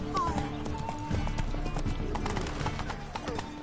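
Roach the horse gallops in a quick, steady clip-clop of hooves close by, with a brief whinny near the start and people speaking over the hoofbeats.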